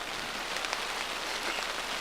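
Steady rain and wind at a wilderness campsite make a dense, continuous hiss of drops close by, with no talking.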